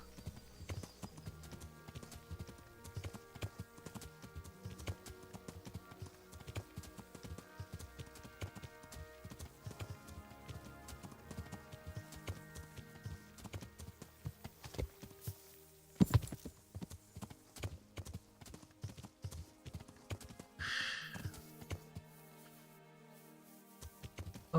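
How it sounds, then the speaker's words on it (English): Horse hooves clip-clop steadily at a walking pace in the medieval video game Kingdom Come: Deliverance, a continuous rhythmic clatter of fairly close, moderate-volume hoofbeats with game ambience and a few sharper knocks. "Come on, big horse."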